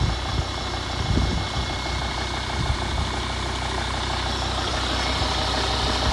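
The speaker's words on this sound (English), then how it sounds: "Volvo D5. It is just such a good engine, really strong engine." A Volvo D5 diesel engine idles with a steady, low, rough rumble, close and even throughout, with no one speaking over it.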